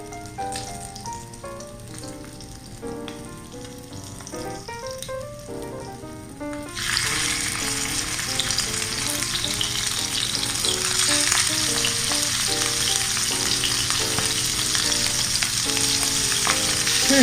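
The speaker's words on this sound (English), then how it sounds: "I'm gonna pan fry the oyster" Pacific oysters are laid flat in hot oil in a pan to pan-fry. A loud, steady, crackling sizzle sets in partway through and continues to the end, with soft music beneath it.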